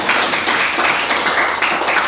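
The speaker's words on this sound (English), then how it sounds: "please clap for SubSkills with what they're doing" An audience at the AfTLP Cohort 7 graduation ceremony claps in a sustained, dense patter of many hands, fairly loud and close, with no speech over it.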